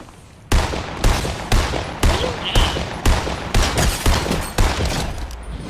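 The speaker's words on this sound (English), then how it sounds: "I'm picking this kid off with my scoped AR" Scoped assault rifle fire in Fortnite, about eight evenly spaced loud single shots cracking out one after another at a steady measured pace.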